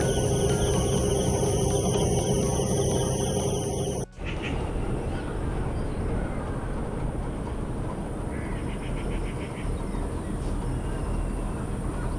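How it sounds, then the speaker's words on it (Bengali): A steady insect chorus of crickets fills the background at Sabuj Dweep near Kolkata, with a continuous tonal drone that cuts out abruptly, leaving dense outdoor chirring. "ঝিঝি পোকার ডাক।"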